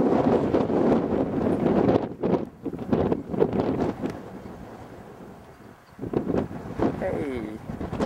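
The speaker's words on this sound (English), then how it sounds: "Windy out here." Strong wind blows across a microphone outdoors in Utah's open country, a loud gusty rumble that rises and drops over several seconds as people talk beneath it.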